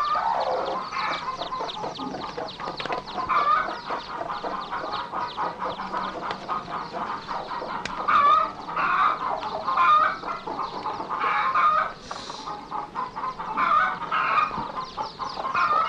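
Chickens in a coop cluck and squawk almost continuously, several birds close by with rapid clucks and occasional louder cackling bursts, with no talk.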